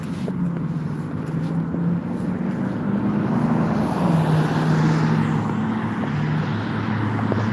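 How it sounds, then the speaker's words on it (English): A loud pickup truck engine rumbles close by, swelling and fading as it passes, with a low droning hum and no talking. "Pickup truck."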